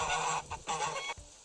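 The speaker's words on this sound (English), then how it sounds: "goose" A goose honks in a short run of loud, close calls that break off and resume, with no talk.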